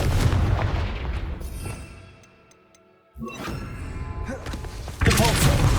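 Confringo fire spell bursting in Hogwarts Legacy, heavy booming blasts with whooshes, a loud explosion, a brief near-silent lull, then another sharp impact and rumbling burst.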